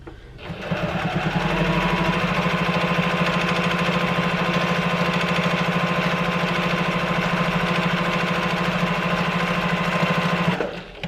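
A sewing machine runs at a steady, fast whirring hum while top stitching a tote bag, one continuous close-up run that starts and stops cleanly.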